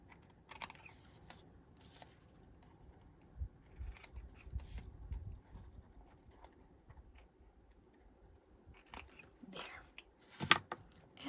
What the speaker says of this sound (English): now you can turn it over and go ahead and trim off the excess